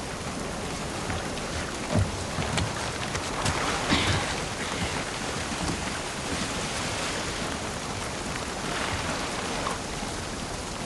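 Steady rain pours down in The Last of Us Part II, a dense continuous hiss with a few louder bursts near the start, heard alone without talk.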